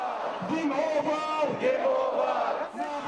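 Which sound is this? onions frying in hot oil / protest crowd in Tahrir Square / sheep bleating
protest crowd in Tahrir Square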